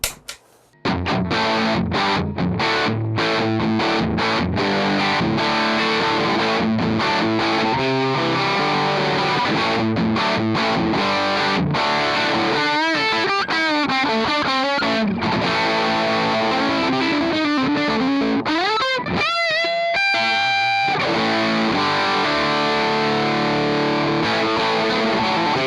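Overdriven electric guitar through a Tubesteader Beekeeper tube preamp, thick distorted riffs and sustained chords with bends and fast runs, continuous and loud after a brief quiet start, no talking.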